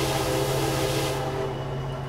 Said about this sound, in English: Oh, listen to that horn.